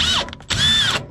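Two short bursts of a power drill whirring while building a homemade mini tank, the second longer, with a brief pause between them and no talking.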